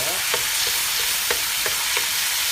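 Crushed garlic frying in a pan, a dense continuous sizzle with light rhythmic scrapes of a spoon stirring through it, close up and with no voices.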